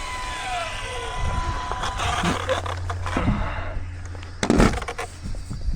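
A Traxxas Rustler two-wheel-drive R/C stadium truck races at high speed, its electric whine sweeping downward as it passes, then rattling and clattering bursts from the surface, with a person talking faintly in the background.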